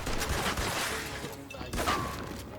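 Rapid bursts of gunfire in Mafia II Definitive Edition, likely from a carbine, crackle loudly and densely for the whole stretch with only brief lulls.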